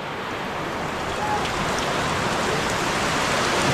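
Heavy typhoon rain, driven by strong wind, pours steadily in Nasugbu, Philippines: a dense unbroken hiss that stays loud and constant throughout.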